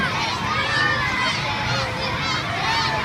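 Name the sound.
crowd cheering at school golf game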